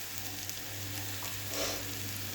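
Spice paste for a simple Bengali fish curry sizzles steadily in a pan, an even, fairly quiet hiss with a slight swell near the end.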